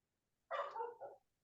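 A single short bark from a dog indoors, one close, moderately loud burst lasting under a second and then silence.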